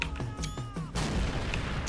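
Artillery cannon fire in the Men of War: Assault Squad 2 war game with a Great War realism mod: a heavy boom cuts in about halfway, after scattered sharper shots, followed by a rumbling wash of battle noise.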